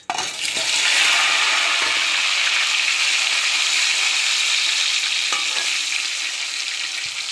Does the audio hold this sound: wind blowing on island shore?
no